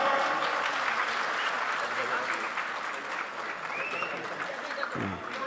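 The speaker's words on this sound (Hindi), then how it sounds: "राज्य जोरदार तालियों से आपका स्वागत।" Loud applause from a large audience welcomes a guest at a political event, sustained clapping filling the whole stretch with a voice briefly heard near the end.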